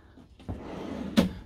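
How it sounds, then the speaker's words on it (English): Drawers in a Forster 745 EF motorhome on a Fiat Ducato base are pulled open one after another, giving a soft slide and then a sharper knock, quiet and close, with no talk. "pull out bits here, drawers,"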